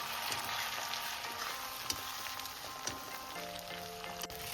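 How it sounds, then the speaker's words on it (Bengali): Chopped tomato being stirred into a sizzling spice masala for paneer khichuri, with a steady close frying hiss and a few soft spoon scrapes and knocks; no talking. "এবার আমি এর মধ্যে কেটে রাখা টমেটোটা দিয়ে দিলাম টমেটোটা দিয়ে একটু নাড়াচাড়া করে নিচ্ছি"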